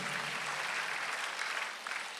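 A church congregation claps together during a Sunday worship service, a dense, steady wash of applause filling the room for a couple of seconds before it starts to thin.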